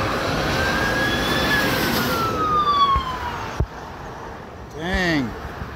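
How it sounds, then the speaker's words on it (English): Fire truck and police car sirens wail, rising and falling under city traffic noise, followed by a short burst of a rapid yelping siren close by after a thud. "Here comes another fire truck, just as I suspected."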